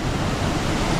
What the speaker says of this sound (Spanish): Estamos en la cascada Ondinas.